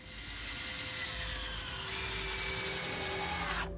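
A drill whirs steadily up close as screws are driven into pergola wood, one continuous run of a few seconds whose pitch rises slightly near the end before stopping abruptly.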